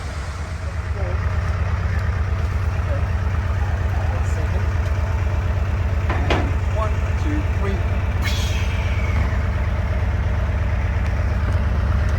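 A narrowboat's diesel engine starts and idles steadily close by, a low rhythmic chugging that starts rough and settles in, with a few faint clanks over it.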